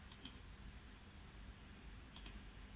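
Computer mouse clicking while working in Fusion 360 CAD software: two pairs of crisp, faint double clicks about two seconds apart over a low background hum.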